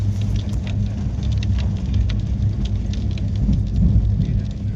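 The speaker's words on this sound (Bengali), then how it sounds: "আর বাইরে প্রচণ্ড বৃষ্টি হচ্ছে। এখানে ছিটা ফোটার আওয়াজ আসছে প্রায়।" Heavy rain lashing a moving Bagh Express train, a dense patter and spatter over the low rolling rumble of the carriage, steady throughout without speech.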